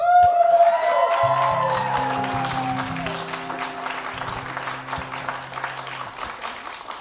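An audience at a live in-the-round music show applauds and cheers to welcome the performers, sustained clapping that is loud at first and then slowly fades, with a few voices calling out over it.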